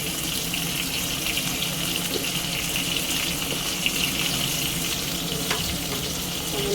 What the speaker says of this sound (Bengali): এটা একটু লাল লাল করে ভাজা হবে, ভাজা হতে থাক।